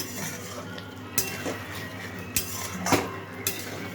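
A spoon scrapes and clinks against a pan as fried potatoes and paneer are stirred, with several distinct knocks spread over a soft, steady background and no voices.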